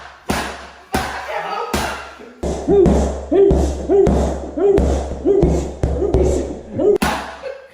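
A boxer's punches land one after another in a series of loud, close thuds and slaps, with short gaps between blows.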